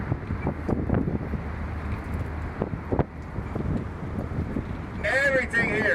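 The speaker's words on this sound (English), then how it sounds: "hold on out here, it gets real windy." Wind roars and buffets against the microphone on an open-top tour bus on the Las Vegas Strip, a constant low rumble with traffic noise, and a voice briefly cuts in near the end.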